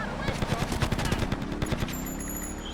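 Rapid bursts of automatic gunfire from the video game GTA Vice City rattle out for a couple of seconds, then stop.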